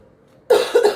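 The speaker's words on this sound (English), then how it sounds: "I've had this persistent cough" A person with a persistent cough of several weeks coughs twice, close and loud, after a half-second of near silence; the two harsh bursts come in quick succession with no talking.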